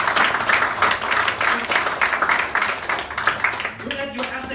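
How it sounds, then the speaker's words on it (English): An audience claps for a company founder at a network marketing presentation, with rhythmic, fairly close clapping that thins out toward the end as a voice begins speaking. "Clap the hand for him."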